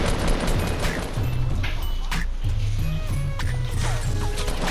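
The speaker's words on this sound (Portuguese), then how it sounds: "Ele tá atirando em mim" Rapid gunfire bursts in the Fortnite video game, loud and busy, with repeated shots layered over game noise and faint background voices.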